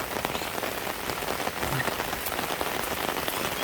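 Steady rain falls at midday over flooded rice fields ready for transplanting, a dense continuous patter of drops hitting water and surfaces, close and even throughout with no voices.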